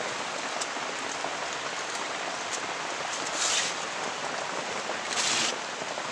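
Steady rain pours down as a constant hiss, loud and close, with no voices, and two brief swells of heavier spatter.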